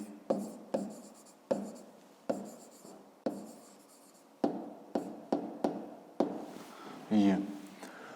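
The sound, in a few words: pen writing numbers on paper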